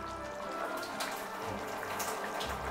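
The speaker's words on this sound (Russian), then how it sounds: "Мы слили воду, и теперь все, рис готов идти в казан." Water from a kettle being drained off rice for Uzbek plov, a steady close splashing pour that continues for about three seconds with no talking.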